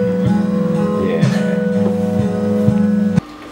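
Third-album track from a Texas band plays loud and steady for about three seconds, with a sustained low tonal bed and brief beat-like breaks before it cuts off abruptly.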